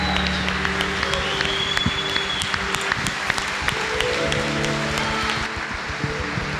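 Congregation at a church service applauding and celebrating, steady clapping of a crowd filling the space with a sustained wash of claps and some tonal background, moderately loud throughout.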